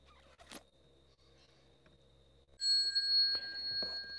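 A bell is struck for a Buddhist bell song chant, ringing out with a sustained bright tone after a quiet stretch with a faint tap or two, then lingering loudly as further sounds continue beneath it.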